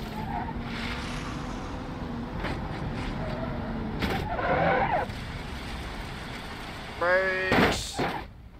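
A base-model car in BeamNG brakes hard and skids, with engine hum, a couple of sharp knocks and a rough scraping burst midway, then a harsh tire squeal with thumps near the end, close and loud, while a person talks over it.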